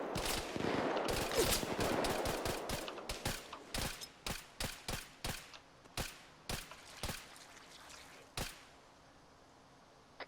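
Video game gunfire in a tactical shooter: dense overlapping bursts at first, thinning into a steady run of sharp single shots and short bursts, fairly close and loud, with no talking.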